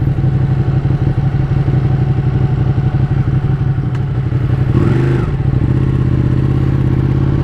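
A 2017 Ducati Panigale 959 sport bike rides along with its engine droning loud and steady throughout, joined by wind rush and a clattering rise in revs near the middle before settling back to a constant cruise.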